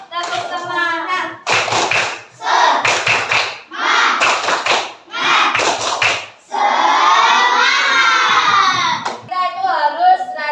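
A class of fifth-grade children performs a spirit clap chant, with loud bursts of rhythmic clapping interleaved with voices chanting in unison, close and energetic.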